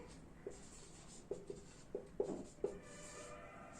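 Faint pen or chalk strokes tap and scratch in a series of short, quiet bursts as an equation is written by hand during a class maths lesson, with no talking.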